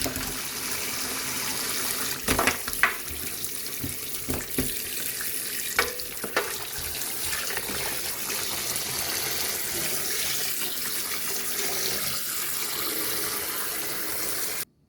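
Raw beef rinsed under a running kitchen tap for stew: a steady, close rush of water into the sink with a few clunks and splashes as the meat is handled, then it cuts off at the end.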